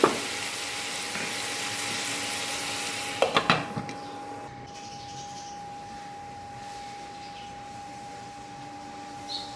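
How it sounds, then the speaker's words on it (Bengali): Potatoes seasoned with salt and turmeric fry in a pan with a steady broad sizzle, broken by a few sharp knocks of a utensil against the pan partway through, then continuing more quietly. "এটা কম আছে, একটু ভাজাটা হতে থাক।"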